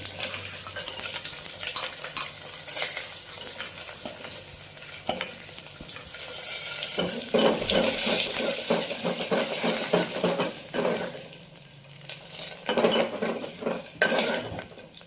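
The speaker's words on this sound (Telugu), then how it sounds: "మిర్చి కూడా వేగిపోయాయి" Chopped green chillies fry and sizzle in a pan while a utensil stirs and scrapes against the metal, producing repeated close clinks and rattles over a steady hiss.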